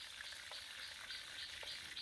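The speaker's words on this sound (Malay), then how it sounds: "Kalau kita guna teknik yang betul untuk kita goreng ayam ni, ayam goreng kita akan lebih sedap." Chicken pieces frying in hot oil for black pepper fried chicken, giving a steady, dense sizzle with faint crackles and no voices.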